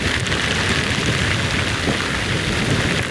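Heavy rain pours down steadily in a dense, loud hiss, with no break or change throughout.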